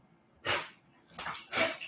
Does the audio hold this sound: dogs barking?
yes